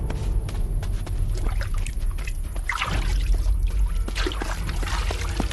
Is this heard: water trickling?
yes